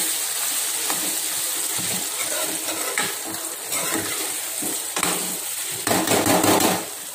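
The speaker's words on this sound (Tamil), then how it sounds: "புளி தண்ணியை ஊற்றிடலாம்" Tamarind water is poured into oil-fried brinjal curry in a pan, giving a rushing, splashing gush over a steady sizzle, with a louder burst of pouring near the end.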